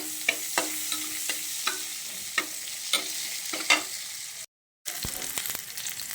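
Squid cooking in a pan with snow peas, a soft sizzle broken by regular clicking stirs of a utensil against the pan, a short gap of silence, then more sizzling and stirring.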